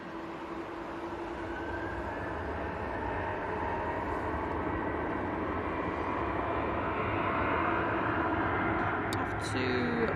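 A Ryanair Boeing 737 takes off from Manchester Airport bound for Murcia, its engines a broad, steady roar that builds slowly and holds loud throughout, with no pauses.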